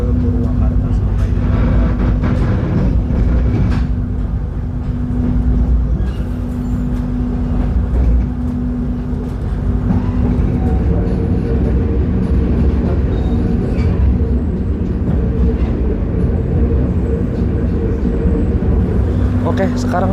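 KA Harina passenger train running on tracks between Surabaya and Bandung, a steady loud rumble heard from onboard with a constant low hum, while a person talks throughout.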